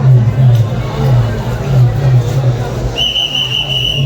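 Dense crowd hubbub at Chinchpokli railway station in Mumbai during a Ganpati arrival procession, with a steady whistle-like tone joining in the final second.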